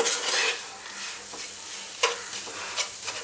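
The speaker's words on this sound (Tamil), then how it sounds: "இப்போ கொஞ்சம் வந்து நம்ம நல்லா கலக்கிடலாம்." Marzipan mixture with added sugar being stirred in a bowl, giving soft scraping strokes and a few sharp utensil taps against the side, close and fairly quiet, with no talking.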